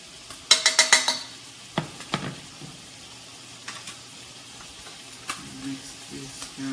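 Vegetables sizzle in a pan while being stirred, with a quick burst of clattering utensil strikes near the start and scattered scrapes afterward over a soft continuous hiss.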